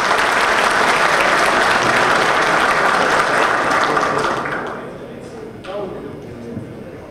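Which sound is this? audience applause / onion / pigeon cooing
audience applause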